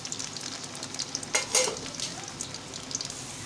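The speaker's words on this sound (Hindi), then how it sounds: "प्याज को पूरा फ्राई नहीं करना, बस इसको हल्का हल्का सौटे करना है।" Finely chopped onions, three medium ones, sautéing gently in hot oil for a white mince dish, a soft continuous sizzle with a brief louder crackle of stirring midway, no voices.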